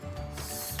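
A cloth diaper is clipped into a Spray Pal cleaning shield over a toilet, giving a brief plastic clicking and ratcheting of the clip mechanism against steady background hiss.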